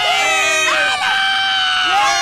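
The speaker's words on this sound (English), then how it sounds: "Even without the music, they still kept cheering on." A crowd of Chilean football fans cheers and shouts together, many voices rising and falling in loud, sustained chant-like calls with no music, filling the space with continuous, bright vocal noise.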